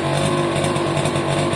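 A Suzuki AP50 50cc two-stroke moped engine runs continuously and loud nearby, a buzzing drone that holds steady throughout.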